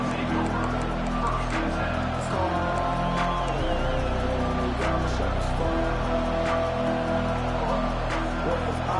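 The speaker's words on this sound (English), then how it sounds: "This crowd bringing an ear-splitting welcome to their visitors." Stadium crowd at a college football game between the Buckeyes and Michigan State, a loud continuous roar of cheering and whooping with a commentator talking over it.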